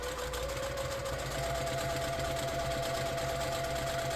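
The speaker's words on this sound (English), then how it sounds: "So back stitch really well right here because we want to secure that in there." A sewing machine backstitching a placemat, a steady close mechanical whir with a rapid even needle rhythm and a faint tonal hum shifting slightly as direction changes.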